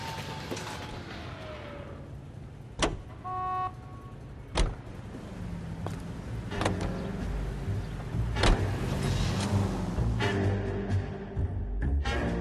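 A car driving in the video game L.A. Noire, a steady engine hum with occasional sharp mechanical thuds and clicks, moderately loud and without talk.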